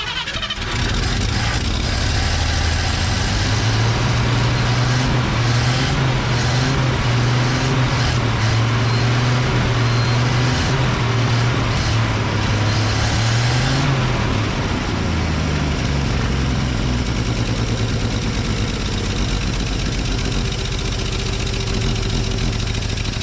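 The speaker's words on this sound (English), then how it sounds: "that carburetor's not quite idling real good." A flatbed truck's carbureted engine idles roughly, a loud, steady, close rumble with a slightly uneven pulse, running on ethanol-contaminated fuel, with no voices over it.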